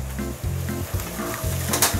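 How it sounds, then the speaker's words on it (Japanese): Water coming to a boil in a pot at home, ready for pouring into a cup of instant shortcake-flavored yakisoba: a steady bubbling hiss with low pulsing hum underneath and a brief louder burst near the end. "まあ、沸騰しましたね。"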